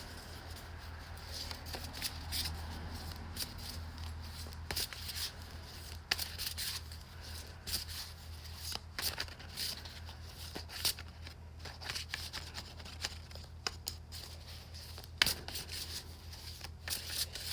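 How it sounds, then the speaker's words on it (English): Large matte-finish oracle cards are shuffled repeatedly in soft, quiet riffling bursts, close and intimate, with brief pauses between the crisp flutters over a low steady hum. "It's so weird, these are like matte finish and yet they shuffle so easily."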